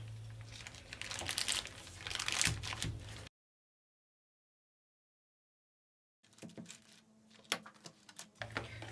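Homemade date chocolate bars are cut inside a plastic bag, producing close crinkling and crunching plastic rustles, then a gap of silence before more sporadic crackling and snips.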